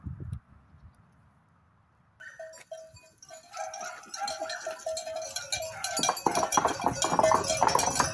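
A small herd of goats of five breeds waits for milking at a farm cheese dairy in the Landes, with bleats, bells and shuffling building from quiet to a busy, close clamour.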